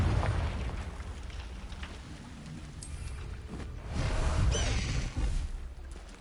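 A Confringo spell blast in the Hogwarts Legacy game, a dense rumbling whoosh and burst of fiery noise that swells loudly near the end, with layered low booms.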